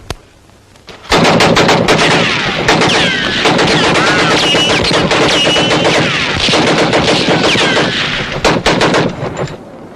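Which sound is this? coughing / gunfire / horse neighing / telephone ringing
gunfire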